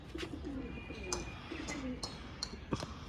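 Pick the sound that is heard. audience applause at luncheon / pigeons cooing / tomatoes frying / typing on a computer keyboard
pigeons cooing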